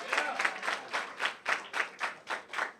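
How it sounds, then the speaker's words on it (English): A small group applauds a newly named president, a faint, quick run of claps pulsing in a fairly regular rhythm, with no talking over it. "round of applause for our newest president"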